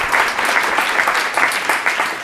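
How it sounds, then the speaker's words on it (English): Audience applause closing a long Friday-evening data science event, a dense, steady wash of many hands clapping at close range for just over two seconds, with no voices standing out. "So give yourself a round of applause."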